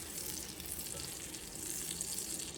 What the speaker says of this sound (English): over here, we have the butter heating up with the thyme in it and the garlic